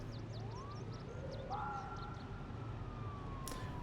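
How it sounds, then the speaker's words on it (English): A quiet, distant wailing emergency siren rises and holds in a zombie survival video game, faint beneath constant background hiss, with a brief sharp click near the end. "hey, isn't the siren supposed to be way louder?"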